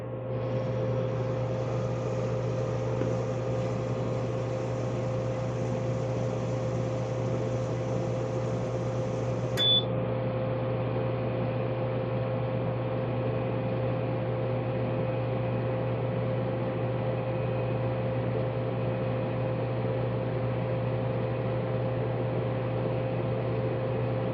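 An Anatech SP-100 plasma etcher runs with a steady mechanical hum and airy hiss, broken by a single sharp click partway through, with no voices.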